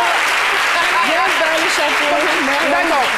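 Steady applause from a crowd fills the space while a voice talks over it.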